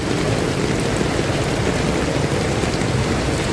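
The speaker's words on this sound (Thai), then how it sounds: "ฝนก็ไม่ยอมหยุด" Heavy rain pours without pause during a thunderstorm at a flooded intersection on Theparak Road, a dense, loud, continuous roar of water close by.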